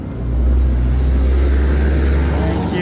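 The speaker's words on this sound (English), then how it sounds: "Loud truck driving by." A loud truck drives by near an RV campsite, a heavy low rumble swelling up and holding steady for a few seconds, close and dominant.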